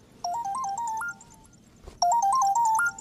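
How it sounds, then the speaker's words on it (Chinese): Telephone ringtone playing a short melodic pattern twice, each bright, close burst about a second long with a brief gap between, no speech. "电话"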